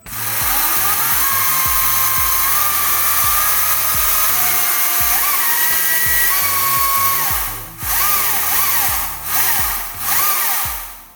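A Stihl MSA 70C battery chainsaw with a variable trigger runs with a loud, steady high-pitched electric whine. The speed rises and falls a little as the trigger moves, with brief dips near the end.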